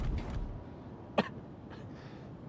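A single short cough, fairly close, stands out once against a steady background hum, with nobody talking.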